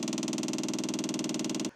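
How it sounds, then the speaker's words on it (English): A track car engine left unused for five years in a car park runs with a steady, loud, pulsing drone close by, then cuts off abruptly near the end. "But we've now got it in, and we're going to try and start it."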